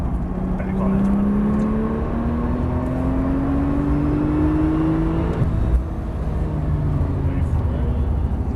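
A Porsche 911 Turbo accelerates on throttle, its engine note climbing steadily in pitch over several seconds, then dropping and building again, heard from inside the car with occasional talk.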